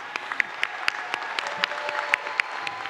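Commencement audience at a spring college graduation ceremony applauding steadily, with dense, sustained clapping and a few sharper claps standing out, heard at moderate distance without speech.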